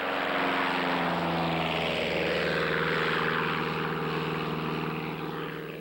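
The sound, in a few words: propeller aeroplane taking off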